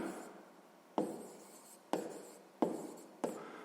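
A pen writes by hand on paper during a sixth-grade maths exercise, close and clear, with soft scratching strokes broken by four sharp taps as the pen lands and lifts, no talking.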